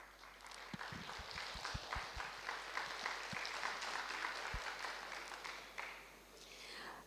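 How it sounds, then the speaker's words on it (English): An audience at a yoga panel discussion claps for the panel, with soft, scattered applause at a distance and a few sharper individual claps early on, fading toward the end. "please give them a clap"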